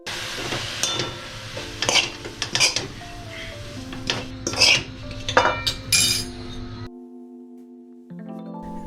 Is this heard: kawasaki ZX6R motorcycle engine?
no